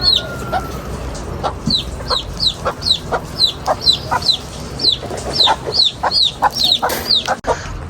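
Chickens cluck in a village yard of small houses in Nicaragua, sounding as a steady run of short, sharp calls about twice per second, close and fairly loud over a low background hum.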